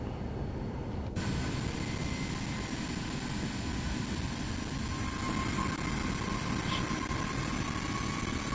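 An airplane engine taxiing in Microsoft Flight Simulator 2024 gives a continuous, even drone and hiss that stays steady and fairly quiet for the whole stretch.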